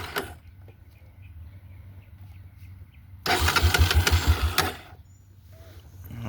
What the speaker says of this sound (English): You see it started right up, and you can hear it, the RPMs kind of going up.